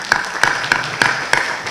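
An audience at a law conference on immediate proceedings welcomes a speaker with applause, sparse and distinct, five or so separate claps ringing out at a slow, uneven pace.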